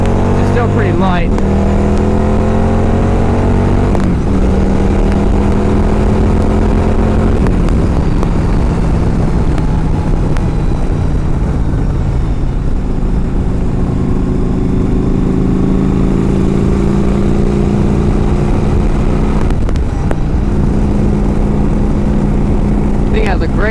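A 2007 Yamaha V Star 1100 Classic motorcycle drones loudly while riding, its engine note rising and falling through gear changes, with someone talking over it.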